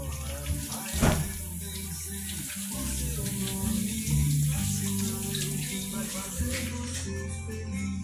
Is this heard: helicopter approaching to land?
no